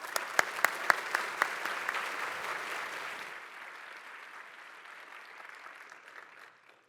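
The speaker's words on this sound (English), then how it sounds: "please give a big hand and applause" Audience applause at a PyCon 2016 conference talk, a burst of clapping with a few sharp individual claps at the start that thins out and fades away over several seconds.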